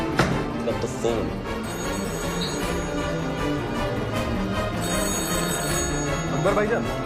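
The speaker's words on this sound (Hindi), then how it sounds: "अकबर के कैबिन का फोन लगातार बज रहा है।" An office-cabin telephone rings repeatedly in a spy action film scene, faint bell tones under a dense music and effects bed with voices.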